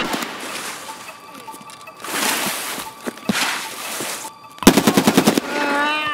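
UMP submachine gun fire in Escape from Tarkov, with a rapid burst of about eight sharp shots near the end, preceded by louder movement and rustling noises.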